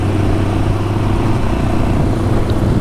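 A Halcyon 250 motorcycle fitted with a fishtail exhaust muffler runs on a Florida ride, its engine a loud, steady, deep and throaty drone with no breaks and no talking.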